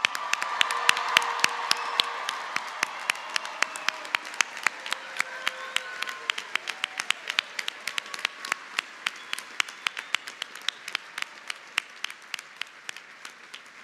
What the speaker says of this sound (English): A round of applause for all of our graduates.